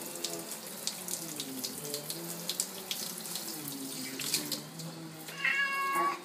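Water streams steadily from a shower onto kitten TJ as he is rinsed, and he meows repeatedly in rising, drawn-out cries close by. A sharper splash of water comes near the end.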